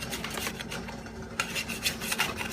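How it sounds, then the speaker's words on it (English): Spatula scraping the bottom of a cooking pan: repeated rasping scrapes in an irregular rhythm over a steady background hum, close and moderately loud. "immediately scrape off the bottom just so it doesn't get stuck"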